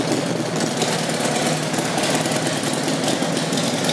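A 2006 Harley-Davidson Road Glide motorcycle with aftermarket pipes idles close by, a loud, dense, continuous engine rumble holding steady for a few seconds with no talking.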